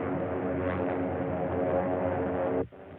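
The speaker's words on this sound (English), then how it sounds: "Fighters taking off in the wing." Fighter planes taking off, a loud continuous roar of aircraft engines that cuts off abruptly near the end, with no talk.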